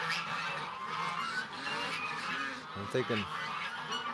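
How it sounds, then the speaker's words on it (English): Canada geese honk repeatedly outdoors in a flock preparing to take off, with a louder burst of close honking near the end; a person speaks briefly underneath. "I bet you the Canada geese are flying away."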